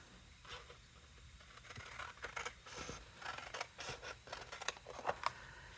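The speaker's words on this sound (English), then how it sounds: "And then I'm going to cut another one of these out." Scissors cutting paper template layers two at a time for a craft box, a close, quiet run of short crisp snips and rustles that comes in uneven bursts, with no talking.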